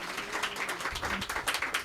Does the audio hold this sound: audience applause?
yes